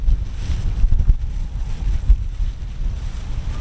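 Outdoor wind buffets the microphone in low rumbling gusts, loud and uneven with short bursts, across a brief few seconds in Port Arthur.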